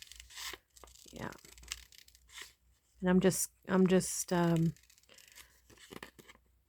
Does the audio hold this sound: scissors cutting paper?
yes